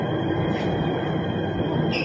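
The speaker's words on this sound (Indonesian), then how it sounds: "Nah, keretanya sudah datang, sepertinya kosong, sepi, bagus sekali ya" An MRT train pulling into a station on a transfer route from the LRT gives a loud, steady rolling rumble, with a brief higher squeal of wheels or brakes.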